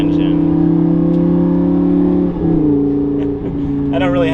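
A Lamborghini V10 engine drones with a loud, steady harmonic tone, dipping briefly twice as the pitch steps down, then settling back into a strong, even hum close to the listener.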